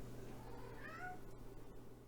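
A house cat gives a short meow, faint and close over a low steady background hum, with no talking around it.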